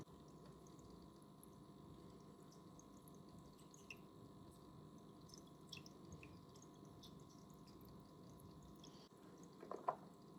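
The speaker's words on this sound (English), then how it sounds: "I'm just going to actually open this up and just pour it, and it will very slowly drain." Salt water drains slowly out of a brine shrimp hatchery as a faint, steady trickle, with a few small drips near the end and no voices.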